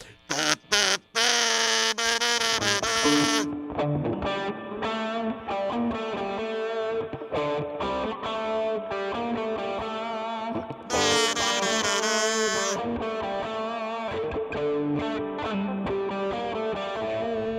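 Loud music with thick, heavily distorted tones and deep bass, sustained chords with brief breaks and bursts of bright, buzzing effects.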